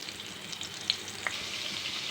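Hilsa fish fries in oil on a tawa, giving a soft, steady sizzle with a couple of sharp crackles and no talking.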